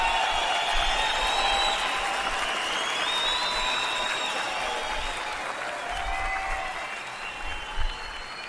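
Sustained applause from a large, enthusiastic audience at a stand-up comedy show, steady and dense for the whole stretch with faint whoops and crowd noise mixed in.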